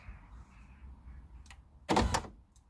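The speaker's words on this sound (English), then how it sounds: "we can see the window goes up" Power window on a 2001 Audi TT 1.8 Turbo Cabriolet closes with a short, loud motorized whir lasting about a third of a second, after faint clicks from the door micro-switch, close by in a quiet garage.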